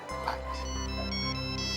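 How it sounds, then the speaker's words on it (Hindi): A telephone ringtone rings steadily at moderate volume for just under two seconds, a sustained tonal pattern with no talking over it, in an indoor comedy-show scene. "लगता है उन्हीं का फोन है।"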